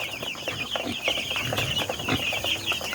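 Several broiler chickens cluck continuously in a busy, close-up chorus of overlapping short calls, with no talking.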